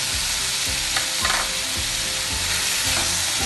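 Salt being stirred into tomatoes frying in a pan, a steady loud sizzle overlaid by rhythmic scraping and clacking strokes of a spatula against the pan, close by and without speech.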